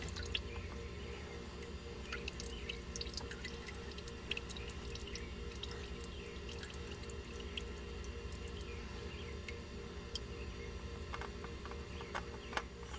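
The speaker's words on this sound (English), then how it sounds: "Now we're draining it out of the oil filter. Into the pan." Engine oil from a Toyota Corolla's oil filter drains into a pan: quiet steady dripping and trickling with small scattered splashes over a low background hum, continuous throughout.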